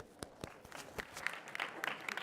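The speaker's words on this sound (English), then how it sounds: "Give her a round of applause" Audience at a college talk clapping in a brief scattered burst, individual claps close and uneven, fairly quiet with no voices over it.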